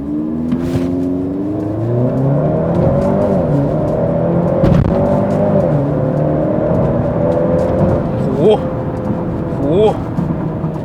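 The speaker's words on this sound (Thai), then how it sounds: "ตอนนี้เราก็มาอยู่ใน จุดเทสศูนย์ถึงร้อยของเกกาเล่ทีครับ" A Maserati Grecale GT SUV with a 2.0-litre petrol engine accelerates hard during a 0-100 run, its engine note climbing in rising sweeps through several quick gear changes, loud and steady throughout.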